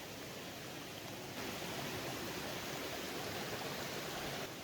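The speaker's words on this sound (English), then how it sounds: "so we're here now at the river" A river's water rushes past in Moruga, Trinidad, as a dense, steady broadband roar, close and constant with no voices.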